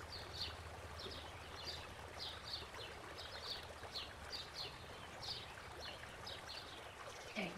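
A paintbrush is swished and rinsed in a water cup, making a faint, continuous trickling and sloshing with light repeated clinks against the container and no talking.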